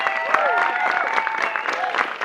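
Brief burst of audience applause at an improv comedy showcase, a lively crowd clapping with a few cheers or whoops mixed in.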